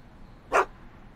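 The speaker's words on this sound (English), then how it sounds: "Why couldn't Doc have invented a dog translator?" A dog barks once in the Back to the Future video game, a single short bark in the middle of quiet background hum, with the start of another bark at the very end.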